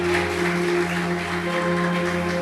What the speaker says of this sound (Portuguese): aplauda ao Senhor nessa noite